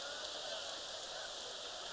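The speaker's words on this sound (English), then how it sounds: "I don't know if you can hear it hitting the tent above my head" Heavy rain from a downpour drums on a tent roof overhead at a college men's soccer match, making a dense, unbroken hiss with no gaps.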